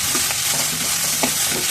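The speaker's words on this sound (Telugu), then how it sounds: "ఆనియన్స్ బాగా వేయించుకుందాం." Onions frying in sunflower oil with green chillies, a steady close sizzle with a few soft stirring scrapes, alone with no talk.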